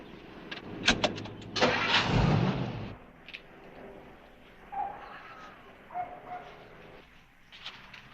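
A car engine cranks and catches with a loud roaring surge, then the vehicle pulls away and fades, leaving scattered quieter rumbles and short noises in the background.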